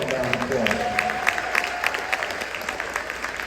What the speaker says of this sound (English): Let's give our police department a round of applause.